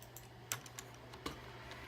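Keystrokes on a Razer computer keyboard, a few sparse, separate clicks spaced irregularly over a steady low hum, fairly quiet and close, with no voices.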